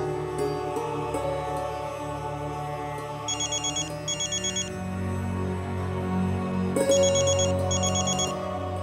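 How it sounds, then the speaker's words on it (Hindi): An outgoing phone call rings in a Hindi TV drama episode, with two bursts of paired electronic trill tones repeating over a steady musical background score, with no voices. "मैं पापा को फ़ोन करता हूँ"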